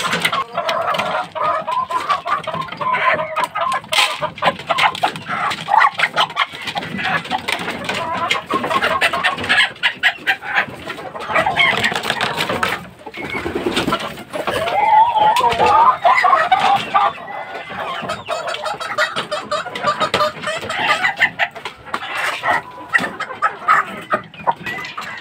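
Hens cluck steadily in a loud, close flock on a farm, with bird calls throughout and a rooster-like cry partway in.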